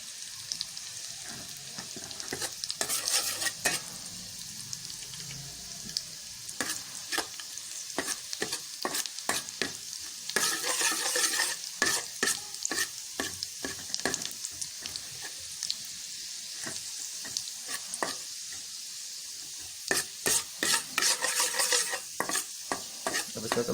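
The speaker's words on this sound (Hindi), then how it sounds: "लहसुन डालने के बाद इसको थोड़ा सा लहसुन को फ्राई कर लें" Garlic sizzles steadily in hot oil in a pan while being stirred, with frequent sharp scraping and clinking strokes of a utensil against the pan, close and fairly loud throughout; cooking egg fried rice.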